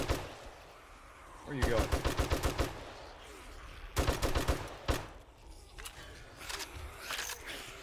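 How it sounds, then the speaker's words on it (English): Rapid automatic gunfire in the survival game 7 Days to Die, two loud clattering bursts of evenly spaced shots, then a single shot and scattered quieter pops, with a short spoken line in between. "I'm gonna shoot you again."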